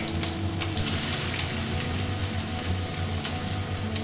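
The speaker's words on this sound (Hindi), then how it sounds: "जैसे ही तेल गरम होता है इसमें हम मिर्च डाल देंगे और आंच हाई ही रखेंगे प्याज भी डाल देंगे" Chillies and onion are dropped into hot oil over high heat and fry with a loud, dense, continuous sizzle that stays close and even throughout. No speech.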